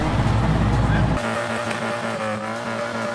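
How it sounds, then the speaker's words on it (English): A Golf rally car's engine slams against its rev limiter, giving a loud, rapid stuttering buzz for about a second before dropping into a lower, rougher drone, with crowd noise and road sounds around it. "a Golf hitting it off limiter"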